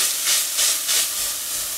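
Vegetables fry in a pan over medium heat with very little fat for a nettle and ground elder soup, giving a steady close hiss and sizzle that swells gently in waves throughout.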